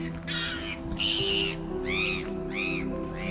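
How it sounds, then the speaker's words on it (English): Loud harsh calls from small birds mobbing a larger bird repeat in a series of four or five cries over steady background noise at a motorhome park in Buncrana, no talking. "There's the wee birds. The wee birds is annoying the big bird."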